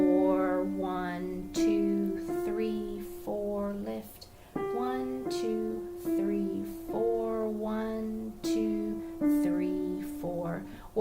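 A piano plays a simple exercise of repeated chords with tied half notes, each chord sounded and held for two beats before the next, in a steady, moderately quiet rhythm.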